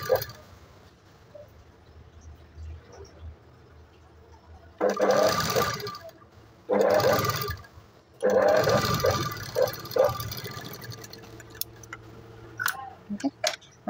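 Sewing machine running a topstitch (stitch length 5) along a folded waistband covering the hook strip, in three loud bursts of stitching separated by pauses, with faint handling sounds and light talk between runs.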